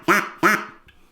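A handmade duck call tuned to a lower pitch gives two loud, close quacks in quick succession, each falling off quickly, followed by a faint short tail.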